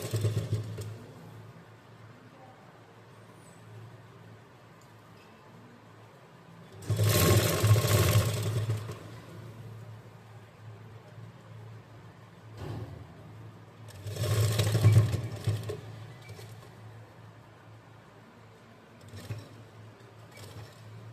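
A sewing machine stitches the folded edge of a gathered umbrella frock in two short runs of whirring motor, each about two seconds long, separated by quiet room tone, close but fairly soft.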